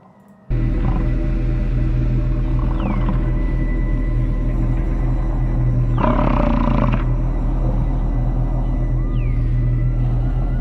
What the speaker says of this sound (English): You can hear the coyotes singing